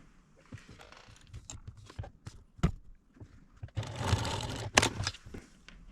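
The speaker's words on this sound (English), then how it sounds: "I'm going to stitch across this end so I don't accidentally pull it off" A domestic sewing machine stitches across the end of a zipper on a fabric jewelry roll in quick rattling bursts, with short pauses and a louder, denser run near the end, close and clear with no talk.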